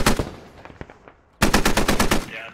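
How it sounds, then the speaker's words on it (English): A vehicle-mounted machine gun on an MATV fires in the tactical shooter game Squad. A loud burst of rapid shots sounds first and tails off, then after a brief lull a second even, rhythmic burst follows. "It's just this one MATV firing pretty blindly up into the hill"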